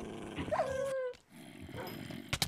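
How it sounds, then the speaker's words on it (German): A Minecraft dog or wolf growls and whines behind the player, a brief, fairly quiet rising whimper with low grumbling and game ambience around it. "Hinter dir ist ein Hund."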